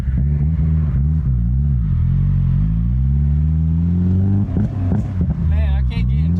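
A Honda S2000 engine being rebuilt after a wreck revs while backing up, unable to reach VTEC as if in limp mode, a loud close rising and falling drone with a voice briefly over the end.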